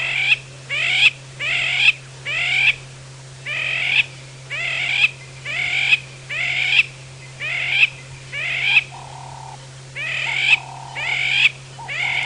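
A bird near its nest repeatedly gives loud, harsh, rasping calls close by, roughly one per second in a steady insistent rhythm, with no talking.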